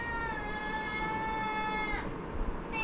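A cat meows indoors in one long, steady, tonal cry that stops abruptly near the end, with no talk over it.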